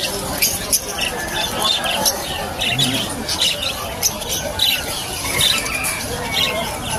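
Lutino parakeets and other caged birds squawk and chatter in a busy pet market, sharp bright calls repeating throughout over a dense background of bird noise and crowd murmur.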